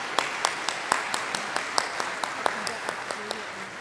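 Audience clapping at a university ring ceremony, a steady scatter of individual claps, moderately close, with murmured voices underneath.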